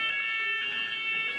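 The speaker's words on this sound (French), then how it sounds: "Troisième déclenchement d'alarme depuis 2 heures" Fire alarm ringing inside a building, a steady high electronic tone held without a break and fairly loud throughout, with no voices over it.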